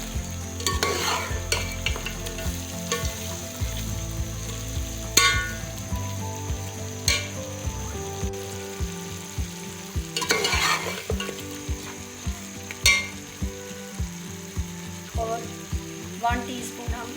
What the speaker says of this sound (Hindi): सबको अच्छी तरह से मिक्स कर लेंगे।